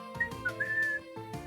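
Wind whistling into a room in Pokémon SoulSilver, heard as a few faint thin whistling tones over soft game background sound.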